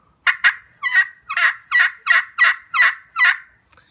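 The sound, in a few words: turkey call imitating hen yelps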